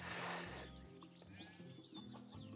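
Sheep bleating in the video game Craft the World, a few short bleats and clucky animal calls over soft game ambience, faint and close.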